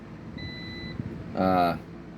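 A multimeter in continuity mode gives a short buzzing beep, about half a second long, as its probes touch a shorted 2SC5200 or 2SA1943 power transistor from an Ashdown ABM500 bass amp; a faint high tone and quiet handling precede it.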